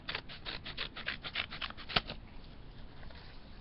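Scissors snipping through folded paper while making a paper flip phone, a quick run of close, crisp cuts for about two seconds, then quiet.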